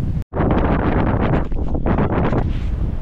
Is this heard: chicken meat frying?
no